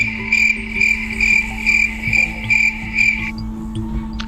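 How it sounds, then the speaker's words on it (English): Steady pulsing insect-like chirps, evenly spaced about every half second, ring out clearly over a low hum and faint background sounds, then stop abruptly near the end. "There's the crickets again."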